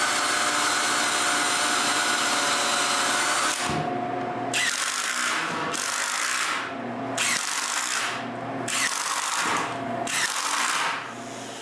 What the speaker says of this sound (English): After putting back the 2 screws, I can drill for the rest and screw them.